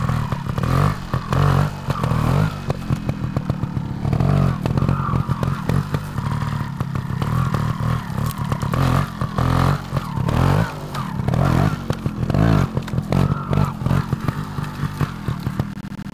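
A Gas Gas TXT 280 trial motorcycle climbs a hill, its engine revving hard in repeated bursts with clattering and scraping, loud and close throughout.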